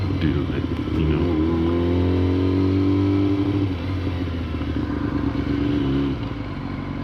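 Motorcycle engine running loud and close, rising and falling in pitch as it revs and accelerates, with wind rush over the whole stretch and no break in the sound.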